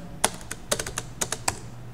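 Close computer keyboard typing while writing Python code, a handful of sharp, quiet key clicks in an uneven rhythm over a soft background hum.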